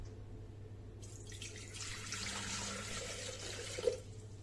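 Roughly 500 grams of water is poured into the bowl of a food processor, a soft, steady trickle and splash lasting a few seconds, quiet and close with no speech.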